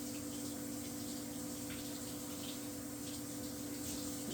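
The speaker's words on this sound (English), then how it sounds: "So always give it a rinse." Running tap water flows in a soft, steady stream while a raw beef roast of a little over five pounds is rinsed in a farm kitchen. The sound is faint, even and uninterrupted, with no voices.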